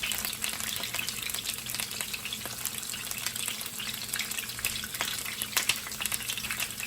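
Stuffed peppers fry in oil in a pan over medium-high heat, a dense, even sizzle with scattered pops and crackles throughout, close with no voices.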